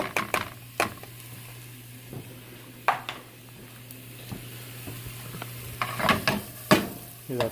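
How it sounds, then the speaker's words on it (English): Onions sizzle faintly in a hot pan, broken up by sharp clinks and scrapes of a utensil stirring against the pan. "Yeah, that sizzle, that's what you want every time."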